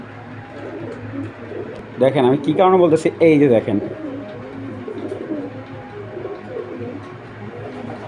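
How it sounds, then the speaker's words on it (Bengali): A person speaks over a low background hum, with soft cooing from racing pigeons faintly audible around the voice. "ওর যে মেন আরেকটা কবুতর আছে আমি ওইটাও দেখাচ্ছি"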